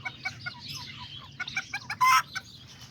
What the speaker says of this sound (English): this is where I put all the little roosters in here